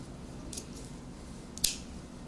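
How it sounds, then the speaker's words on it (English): Scissors snip through the seam allowances of a sewn coat: two short, crisp cuts about a second apart against a quiet background. "And then you snip it in the curves as well"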